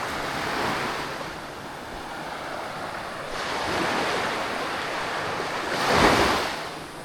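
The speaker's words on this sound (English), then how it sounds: "So we made it to the beautiful beach, and this is where all the surfers are too." Ocean surf rolling onto a surfers' beach at Bocas del Toro, Panama, with a steady wash of breaking waves, a louder swell near the end and wind buffeting the microphone, no voices.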